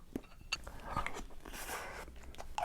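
Soy sauce marinated crab and shrimp eaten with rice mixed with sesame oil and egg, giving close, moist crunching and chewing bites in short bursts, with no talking.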